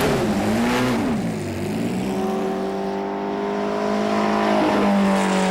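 A Lotus 49 racing car engine roars loudly and steadily, its pitch sweeping up and down with revs before settling into a sustained high drone.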